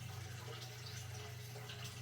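Water poured from above onto clay-coated tomato seeds in indoor seed-starting trays, a steady close trickle and splash running continuously without pause, alone with no talk over it.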